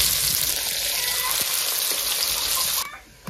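Onion frying in hot oil with bay leaf and cumin in a home kitchen, a steady loud sizzle with faint stirring clicks, cut off abruptly near the end.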